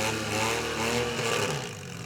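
Swapped-in engine of a demolition derby car revving hard in neutral at an outdoor derby, a loud, sustained roar with shifting pitch that eases off slightly toward the end.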